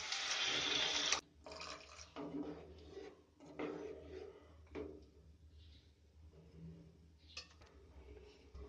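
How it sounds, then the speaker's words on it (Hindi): Water is poured into a hot pan of spiced potatoes and onions cooking over a medium gas flame, giving a loud hissing splash for about a second, then quieter bubbling and scattered clinks. "अब हम इसमें पानी डालेंगे।"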